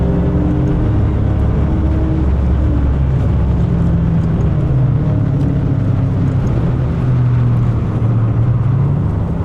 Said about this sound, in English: I'm feathering the throttle here